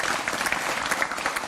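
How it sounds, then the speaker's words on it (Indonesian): A studio audience at an evening talk show applauds its guests with dense, lively clapping that fills the whole brief moment. "tepuk tangan untuk semua narasumber saya pada malam hari ini"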